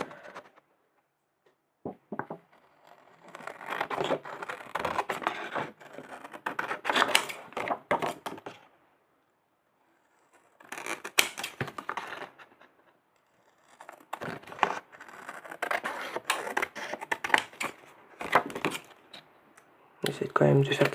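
Scissors cut along the sides of a paper fake banknote, making close, crisp snipping and rustling in three bursts separated by short pauses, with no talking.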